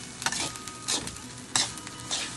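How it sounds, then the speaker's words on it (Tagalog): Food sautéing in a hot pan, a continuous close sizzle and frying hiss broken by several scraping stirs of a utensil against the pan. "Among gigisa."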